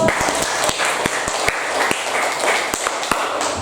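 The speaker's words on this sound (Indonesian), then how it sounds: "Oke, beri aplaus untuk" Classroom applause at the end of a geography lesson: dense, steady clapping from a group fills the whole stretch, with sharp individual claps standing out and no voices.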